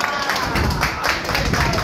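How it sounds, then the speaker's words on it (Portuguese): Short burst of clapping from a small group for a raffle winner at a union office, close and continuous with voices mixed in. "Uma salva de palmas pra Verônica"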